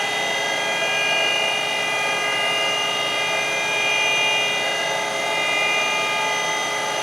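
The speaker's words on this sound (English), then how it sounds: "One shot at the grinder and we're there." A surface grinder works a steel setup block, a loud continuous whine with a steady hum and ringing tones, held evenly with slight swells and no voices.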